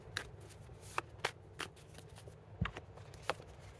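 Cards, or chess pieces, being shuffled by hand for a chess board-vision drill, giving soft papery riffles and sharp isolated clicks at irregular intervals, close up and quiet, with no talking.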